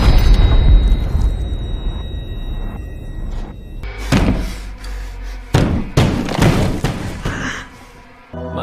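A series of loud, sharp gunshots and thuds, several in quick succession, with booming low-end impacts between quieter stretches.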